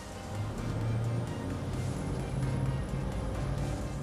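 A Cranchi 60 ST motor yacht on the water, its engines droning with a steady rumble and a muffled rush of water and wind around the hull.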